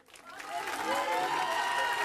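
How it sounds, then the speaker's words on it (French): A crowd applauds and cheers at a municipal campaign launch speech in Rosny-sous-Bois, the clapping swelling quickly from quiet to a sustained, dense roar with scattered voices. "On peut l'applaudir."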